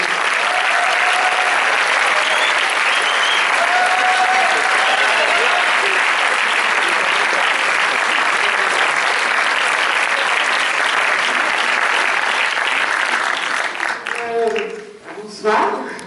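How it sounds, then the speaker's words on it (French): A film premiere audience applauds the film team in a dense, sustained wash of clapping that continues for many seconds before fading and a voice begins speaking. "Merci d'accueillir également Laure Perrani."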